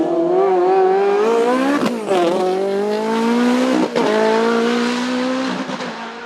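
A Ferrari 430 GTO race car climbs the Vuillafans–Echevannes hillclimb course, its engine roaring loud and close, climbing in pitch through revs and dropping sharply at two gear changes.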